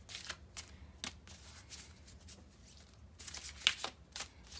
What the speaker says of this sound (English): we're going to shuffle this backwards.